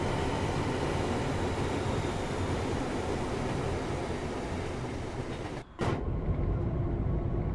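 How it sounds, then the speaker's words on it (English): Train wheels rolling over rails in Train Sim World 5, with a 350 unit on the West Coast Main Line, giving a continuous loud rumble with faint clacking. The noise briefly cuts out near the end and then resumes. "I did hear some clacking then,"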